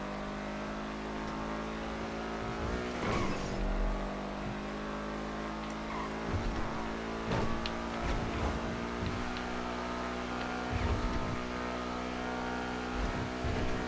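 A car in GTA 5 drives steadily with a continuous engine drone, occasional revs rising and falling, and sharp bumps or impacts scattered throughout, fairly loud and without talk.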